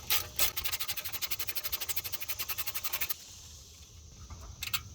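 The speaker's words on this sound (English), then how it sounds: "Grab your 8mm socket and begin removing the 3 IWE bolts." An 8mm socket on a ratchet spins out an IWE bolt on a Ford F-150. It makes a fast, even run of close clicks for about three seconds, then a short pause and a couple of brief ratchet bursts, with no talk.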